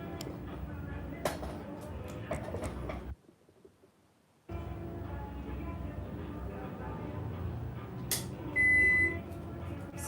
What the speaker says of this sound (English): So I'll put my butter in the microwave and let it melt before we proceed.